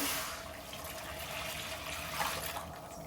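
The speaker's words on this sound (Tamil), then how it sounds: "தேங்காய் பால் எடுத்து வச்சுருக்கேன் அதை இதில் ஊற்றிடலாம்" Coconut milk pours into a cooking pot for paal kozhukattai in a steady, close, continuous liquid stream with a gentle splashing hiss and no talking.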